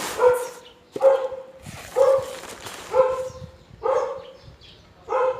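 A neighbouring dog barks repeatedly outdoors, six sharp evenly spaced barks about a second apart, loud and fairly close, with quiet gaps between each one.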